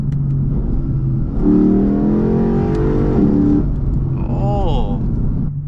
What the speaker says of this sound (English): Big difference from stock intake as far as sound.